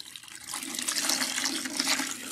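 Water runs through hair as a protein treatment is rinsed out, making a close, steady splashing rush that continues without a break. No one speaks over it.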